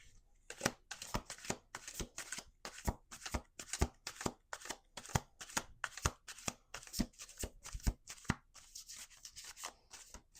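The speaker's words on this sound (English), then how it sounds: "Let's do 2 more shuffles." Cards being shuffled in quick riffling bursts, many crisp flutters and snaps in a rapid irregular rhythm, close and fairly quiet with no talking.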